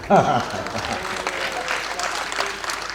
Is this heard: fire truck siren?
no